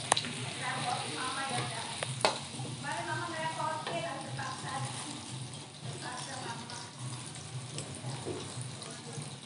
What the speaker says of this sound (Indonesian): tumis bawang putih, bawang merah sampai harum baunya